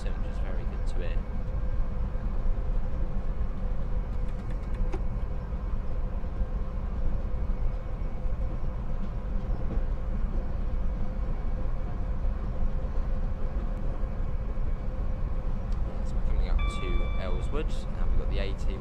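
A train in the Train Sim World video game, an AT service heading through Red Hill Tunnel, runs with a steady low rumble and a continuous hum throughout, while a person talks over it.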